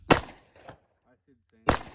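A Springfield Hellcat 9mm pistol fires two sharp shots at a steel target at an outdoor range, with a fainter clang ringing between them and brief quiet voices in the gap.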